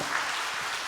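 Congregation in a church claps after a mission seminar, a brief, even wash of applause filling the room at moderate volume with no voices over it.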